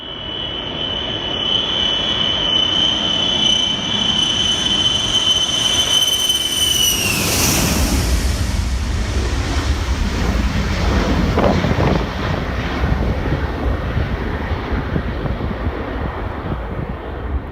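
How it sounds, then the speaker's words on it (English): An overloaded plane's engines whine with a high steady tone that drops away as it roars down the full length of the runway, giving way to loud, rumbling, wind-buffeted engine noise that continues to the end. "This overloaded plane used every inch of the runway and barely took off at the last second."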